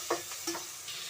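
Onions and drumstick sauté in a pan for a tamarind curry, a soft sizzle under two or three quick stirring scrapes, close and quiet.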